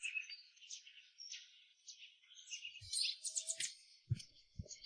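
Birds twitter and chirp in a tree, a steady mix of high overlapping calls with a few low thumps near the end, quiet and a little distant.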